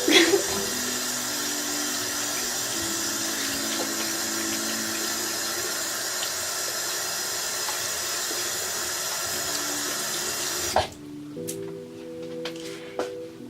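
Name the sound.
water running while rinsing skin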